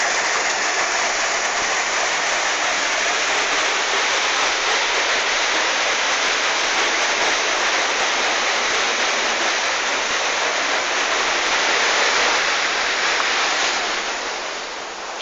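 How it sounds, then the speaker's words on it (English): A heavy-volume waterfall in Fife roars in a steady, dense rush of falling water, loud and unbroken throughout with no voices. "you can't help but be impressed by how much water's coming over here, the sheer volume of it. The noise is wonderful."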